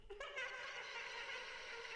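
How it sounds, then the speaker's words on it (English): A vocal run through a Soundtoys delay plugin on a produced pop track, its sustained, bright tones smeared into trailing repeats that hang evenly for about two seconds with no other sounds. "Yeah, it makes like a delay effect."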